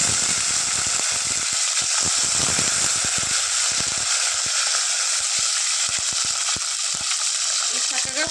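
Garlic, dried red chilies and curry leaves fry in hot oil with a steady, loud sizzle and crackle, punctuated by sharp pops and stirring clatter throughout.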